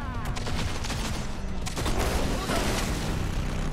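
Dense gunfire rattles in the Cyberpunk 2077 video game, rapid overlapping shots and booms sustained and fairly loud across the stretch.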